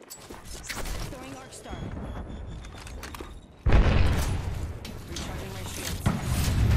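A frag grenade goes off in Apex Legends: a sudden, loud, close boom bursts in midway through the clip, following a stretch of busy clattering game sounds, and the rumble carries on heavily to the end.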